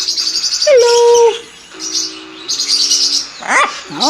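Parrots in a crowded parrot shop give loud, close chirps, whistles and squawks, with a sustained whistled tone, rising sweeps and a harsh call near the end, and no talk.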